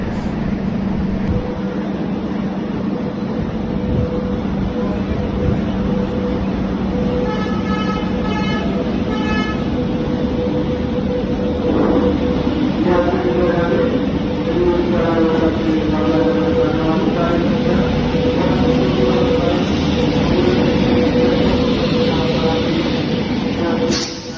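The Garib Rath Express, train 12215 from Delhi Sarai Rohilla, pulls into Bandra Terminus with a steady loud rumble, while tonal horn blasts sound midway and a faint murmur of voices runs beneath.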